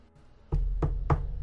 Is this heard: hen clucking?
no